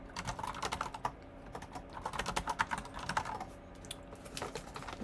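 A computer keyboard clatters under quick typing during a coding session, with irregular bursts of close, crisp keystrokes over a faint room hum and no talk.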